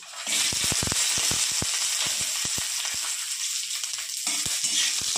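Green chillies, garlic and nigella seeds fry in a little mustard oil, giving a loud, steady sizzle broken by sharp crackles and spatters, with no talking.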